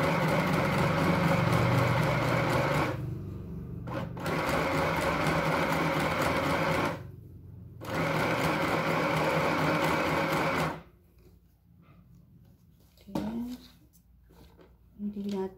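A portable sewing machine stitches a blouse or polo shirt at close range, running in three long steady bursts broken by brief pauses, then falling quiet while a few soft handling sounds follow.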